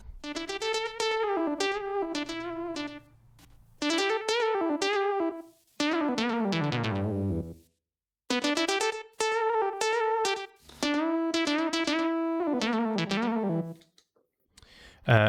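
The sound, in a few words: Juno synthesizer solo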